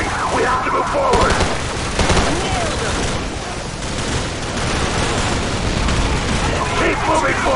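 Dense automatic gunfire and booming blasts crackle nonstop in a Call of Duty 4: Modern Warfare firefight, loud rapid bursts layered over explosions, with shouted voices mixed in.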